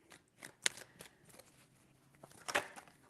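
Tarot cards being shuffled three times in a quiet room, giving soft papery riffles and two sharp crisp snaps, one early and one near the end, with no talking.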